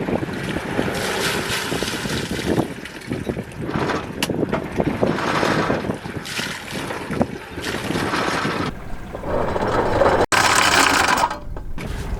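On a sailboat at anchor, the anchor chain rattles out steadily in a continuous mechanical clatter, heard close over heavy wind noise and water, with a brief break near the end.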